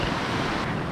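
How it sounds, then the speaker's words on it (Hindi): Water surging hard out of the five canal gates below the Ramganga Dam, a steady, loud, dense roar with no breaks, captured close up outdoors. "गेट में को देखो कितनी तेज़ी से पानी निकल रहा है"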